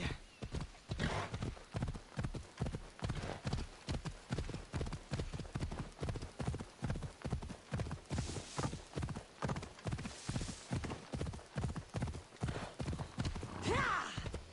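A horse gallops in Assassin's Creed Odyssey, rapid rhythmic hoofbeats drumming steadily and close for the whole stretch, with a brief neigh near the end and faint voices now and then.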